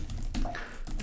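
Computer keyboard typing at a terminal while setting up shell completion, a few quick clustered key taps in a short burst, close and clear with no talking.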